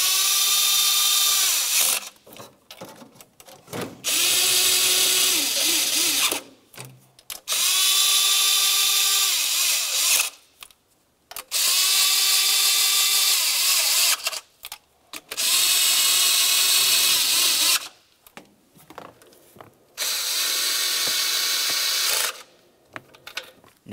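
A power tool snugs up the EGR valve bolts on a 1998-2002 Lincoln Navigator, running in six loud, steady whirring bursts of a few seconds each, separated by short pauses and faint clicks.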